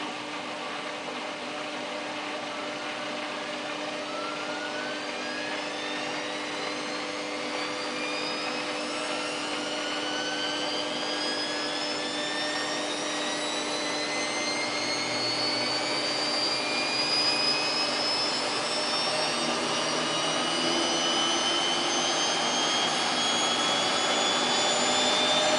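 A Samsung WF8804RPA washing machine runs a service cycle with a steady whirring motor whose drum tones rise slowly in pitch. The sound is continuous and fairly loud, with no voices.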